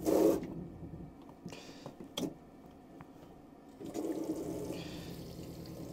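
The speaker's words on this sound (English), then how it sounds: "you'll be able to get a pressurized flow of water" Water gushes from a tap in an Auto-Trail Excel 690T motorhome in short bursts, stopping and restarting, with a quieter steady flow toward the end.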